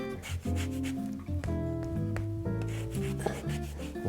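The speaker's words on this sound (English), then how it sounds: "we've got this lovely orange. We are just going to fine grate some over top." Fine grater scraping orange zest over a cocktail, a close steady rasping rub with a tonal background of music underneath.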